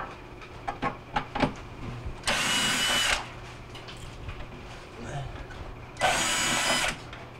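A power driver backing out 1/4 inch screws from a Frigidaire refrigerator panel, two short whirring bursts about a second long, separated by quieter handling clicks and some talk.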